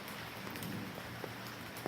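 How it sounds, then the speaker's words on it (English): Heavy rain pours into a kitchen with the roof tarps pulled back, a faint, steady hiss of water with scattered soft drops and splashes. "the rain is just pouring in freely"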